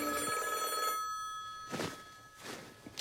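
An old-style telephone bell rings with a metallic ringing burst at the start, then quieter rustling and a few soft footstep-like thumps follow.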